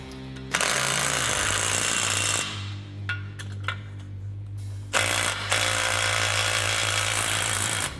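Power tool driving bolts into the cutting edge of a Yanmar excavator bucket, a loud steady buzzing whir in long bursts with brief pauses between bolts, close up and with no talk.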